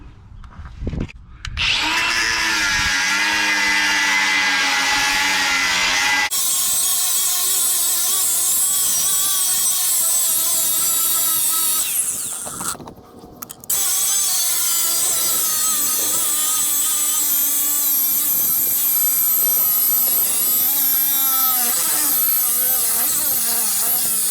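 A power tool cuts through the shoulder of a Volvo Corporate Air Ride lower shock mount, a loud continuous metal-cutting whine running nearly throughout, dropping out briefly near the start and again for a moment midway.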